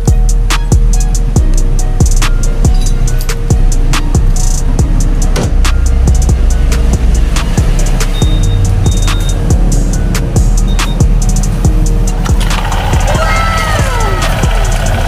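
A Honda ADV 160 motorcycle engine starts up and runs close by, a loud, steady idle with a rapid ticking, rattling texture throughout.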